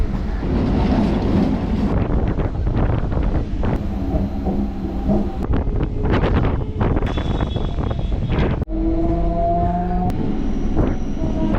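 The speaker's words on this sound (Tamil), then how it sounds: "இந்த ட்ரெயின் ஸ்டார்ட் ஆகிடுச்சு" A suburban train rumbles and roars loudly throughout, with continuous low mechanical noise, clanks and a steady wind-like rush as it starts moving out of the Chennai MGR Central suburban terminal.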